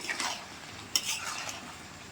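Chicken being stirred and fried in a pan, with a soft sizzle underneath and a single sharp clink of a utensil against the pan partway through, close and moderately quiet.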